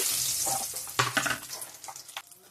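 Dried red chillies and bay leaves hit very hot oil in a kadai and crackle and sizzle loudly up close, with a few sharp pops and some stirring clatter as the spluttering slowly fades.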